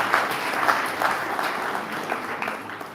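Audience applause at a community security and safety team launch, moderately loud continuous clapping from a gathered crowd, gradually thinning toward the end.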